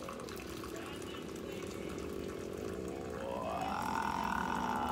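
Water from a kitchen tap pouring into a measuring cup in a sink, a steady hiss and splash whose pitch rises as the cup fills, fairly faint and close.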